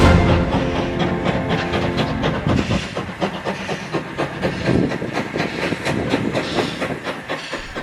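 A heritage railway train rolls along steadily with rhythmic clickety-clack of wheels on rails and a constant rumbling hiss, close and loud throughout.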